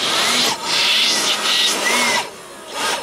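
A loud, steady whirring battery-powered blower motor running close by, dipping briefly a few times as it is revved or moved.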